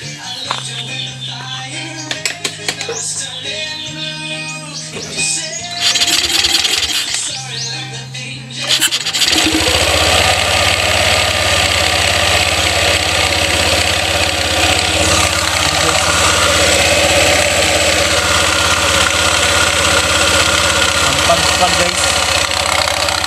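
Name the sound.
motorcycle engine revved to check the CVT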